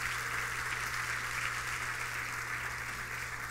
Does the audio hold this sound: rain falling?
no